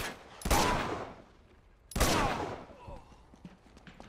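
Gunfire in the video game Uncharted 2: Among Thieves: two loud, sharp shots about a second and a half apart, each trailing off into a long echoing decay, with a voice faintly under the tail.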